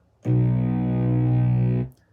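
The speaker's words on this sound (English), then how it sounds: "I'm going to be adding a really like deep tone fuzzing bass" A deep, distorted fuzz bass note from a cover of "House of the Rising Sun" holds steadily for about a second and a half, thick and buzzy, then cuts off cleanly.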